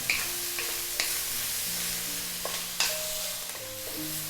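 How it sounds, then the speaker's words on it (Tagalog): Beef tripe sautéing and being stirred in a pot for Filipino goto rice porridge, a steady close sizzle with scraping stir strokes and occasional clinks of the utensil against the pot. "naigisa na natin ng ilang minuto yung ating beef tripe"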